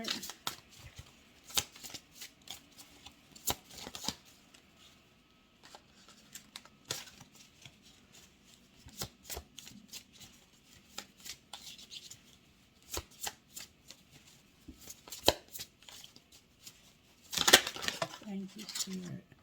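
Tarot cards are shuffled in short crisp riffles and slaps at irregular intervals, close and fairly quiet, with a louder flurry near the end and a voice talking in places.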